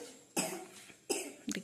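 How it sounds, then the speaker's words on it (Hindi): A child coughs indoors: three short, harsh bursts close to the listener, spaced apart, with no talking. "मेरी बात मान नहीं रहा, फिर खांसी हो रही है।"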